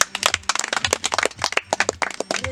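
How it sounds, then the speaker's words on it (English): Group of teen fathers at a vocational training centre clapping for themselves, a dense, lively burst of many hands applauding together, near and steady for a few seconds. "can you clap for yourselves?"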